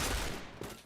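Gunfire in the Point Blank shooter game, a brief burst of shots with a rolling, crackling tail, moderately loud and heard alone.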